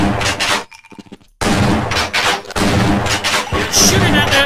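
Loud, close gunfire from the Half-Life video game, with bursts of shots and booming blasts broken by a short near-silent gap, with some game voice mixed in.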